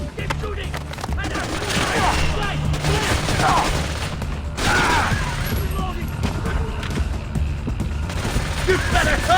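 Gunfire in the Splinter Cell: Conviction video game during a co-op mission, continuous rapid shots and crashes forming a loud sustained barrage, with game voices heard amid the shooting.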